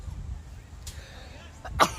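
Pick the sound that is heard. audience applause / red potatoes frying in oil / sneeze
sneeze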